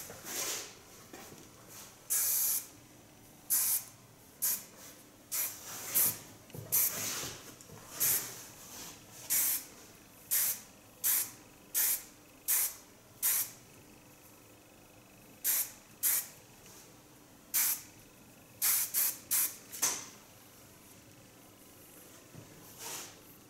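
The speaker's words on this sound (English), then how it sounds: "Now style it with a texture hairspray." Texture hairspray sprayed on hair in a salon styling session, many short crisp hissing bursts in irregular runs, some quick doubles and triples, with quiet gaps between.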